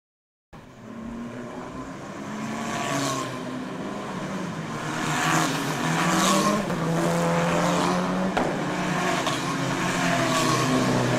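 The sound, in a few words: race cars driving onto the circuit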